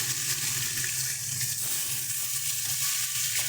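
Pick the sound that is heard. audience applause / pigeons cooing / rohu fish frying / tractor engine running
rohu fish frying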